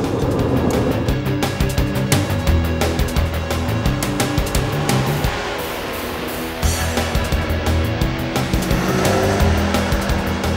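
High-revving Honda Integra engine screaming toward a 9,000 rpm redline, with tyres squealing, loud and continuous throughout with a brief dip midway.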